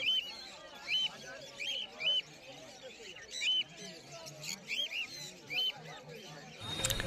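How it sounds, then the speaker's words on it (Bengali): Cockatiels, lutino, black and fawn birds, chirp at an Uluberia pet market with a string of bright, repeated calls in a fairly even rhythm over a low market murmur. "এখানে কিছু কোকাটেল আছে, লুটিনো কোকাটেল আছে, ব্ল্যাক কোকাটেল আছে"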